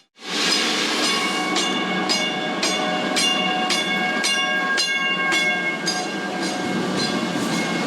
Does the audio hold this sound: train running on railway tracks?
yes